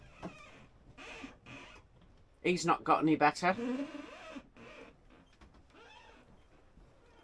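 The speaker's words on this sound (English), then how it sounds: "the annoying squeak in the bedroom here" Squeaking and creaking inside the bedroom cabin of a sailing boat rolling in rough seas on a Biscay crossing, a burst of sharp repeated squeaks midway, with someone talking before and after.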